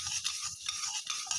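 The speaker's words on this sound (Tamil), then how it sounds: "அரிசியும் நல்லா வறுத்து எடுத்துருவோம்" Rice dry-roasts in a pan, stirred in quick, rhythmic scraping strokes that are soft and close, about six short sweeps in a brief burst with no talking.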